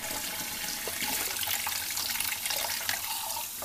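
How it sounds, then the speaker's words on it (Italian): A mug being washed under a cold-water tap: a steady, close rush of running water splashes continuously into a sink with slight shifts in spatter, and no voices. "la svuoto, la lavo con dell'acqua fredda"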